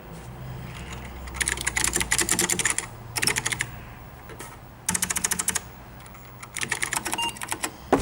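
Bursts of rapid clacky keystrokes on a MacEffects Apple IIe mechanical keyboard, close and crisp, arriving in several flurries separated by short quiet gaps over a low background hum.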